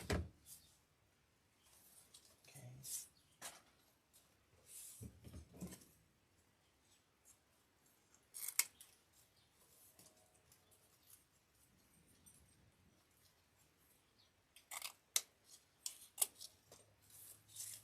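Several quiet, sharp snips of scissors cutting ribbon for an Easter wreath, spaced irregularly in short bursts against an otherwise near-silent background.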